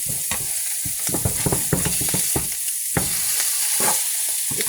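Sausage sizzles and spits in a frying pan, a steady bright hiss broken by repeated scraping and clattering as it is stirred and turned.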